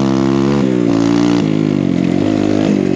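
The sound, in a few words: Kawasaki KLX140RF big bore dirt bike engine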